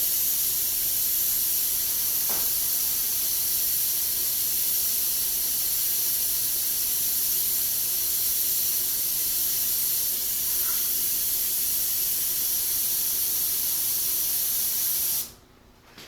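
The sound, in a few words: airbrush spraying paint highlight on rivet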